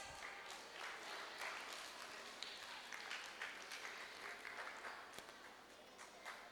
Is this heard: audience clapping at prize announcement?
yes